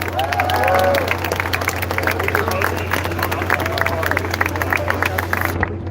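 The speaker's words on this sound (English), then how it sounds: "a nice hand, round of applause for all the people working backstage" A rally crowd applauds steadily in a large space, dense clapping with a little cheering and crowd babble, loud and sustained throughout, with a brief voice at the start before cutting off near the end.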